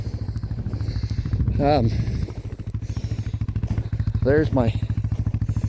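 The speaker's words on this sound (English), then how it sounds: "float pulling behind the quad, and it just keeps kind of packing down the trail and leveling it out as we go." A quad ATV drives along a snowy bale-grazing trail pulling a float behind it, its engine chugging steadily and close by throughout while someone talks over it.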